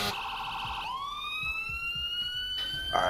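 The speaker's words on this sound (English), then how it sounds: "Alright, let's kill his sirens." Emergency vehicle siren in the Emergency 4 game, a loud wailing tone that sweeps upward and then holds steady with a bright electronic edge, heard alone with no talking.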